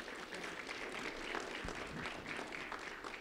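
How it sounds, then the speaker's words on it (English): Applause from an audience at a sheriff's office recognition event for a third-grade student, a soft, steady patter of many hands clapping, heard at a low, distant-sounding level. "a round of applause for Austin Haft"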